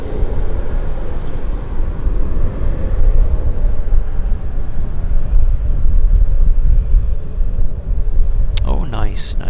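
An airliner comes in to land at Vancouver Airport in a crosswind, a steady broad engine roar holding loud and close throughout, with a brief higher whine near the end.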